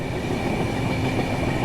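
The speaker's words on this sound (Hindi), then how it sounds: "ट्रेन जो है अपनी ऐसी कुछ रफ्तार में दोस्तों भाग रही है" A Jharkhand Sampark Kranti Express passenger train on the Delhi route runs at speed, giving a steady, continuous loud rumble of wheels on rails with a faint high whine and no voices.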